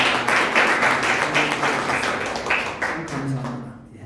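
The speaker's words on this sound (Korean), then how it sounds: "다시 한번 박수로 안녕하시겠습니다." Church congregation applauding after a prayer at a Korean church service, a brief round of clapping mixed with a voice speaking over it, fading toward the end.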